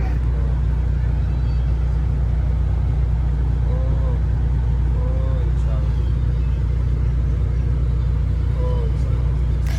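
Inside a low-floor bus in Kerala on the move, a constant loud low engine rumble and road drone fill the cabin, with faint voices and occasional squeaks over the steady hum.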